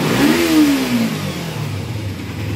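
A sport bike's engine revs up in one quick blip, pitch rising then falling back, followed by a steady close idle.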